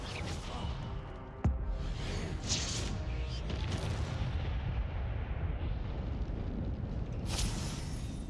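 A fire spell cast in the Hogwarts Legacy video game gives a sharp cracking burst, then a sustained roaring, whooshing rush of flame with further flares, under a dense game soundscape.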